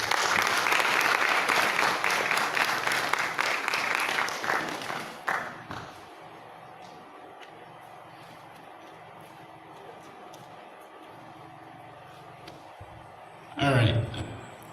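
Summit audience of youth leaders clapping in a loud, dense round that fades out after about six seconds, leaving quiet room tone, with a brief loud knock or bump near the end.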